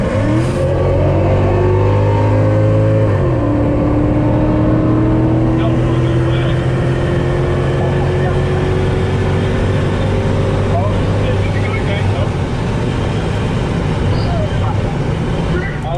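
A Ford Mustang GT with a 10-speed and a Mercedes E55 AMG pull away together, their engines a loud, close, steady drone with rising and shifting tones as they get moving.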